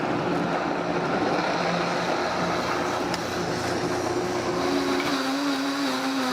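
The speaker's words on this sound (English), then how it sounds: "This mixer. is the, well, it's a professional blender." A professional kitchen blender runs continuously at full power, a loud, dense whirring roar that fills the whole stretch and shifts slightly in pitch near the end, with no talking.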